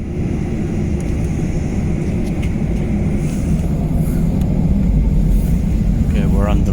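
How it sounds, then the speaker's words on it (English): A passenger airplane sits on the runway before takeoff on a flight to London, its engines a loud, steady low rumble and whine heard from inside the cabin, with faint voices in the background. "Okay, we're on the runway."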